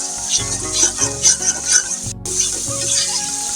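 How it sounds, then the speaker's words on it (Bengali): Dried chela fish sautéed in spice paste in a pan, giving a steady sizzle under repeated scraping and stirring strokes in a loose rhythm, close and fairly loud. "মশলা দিয়ে শুটকিগুলোকে কষিয়ে নিলাম"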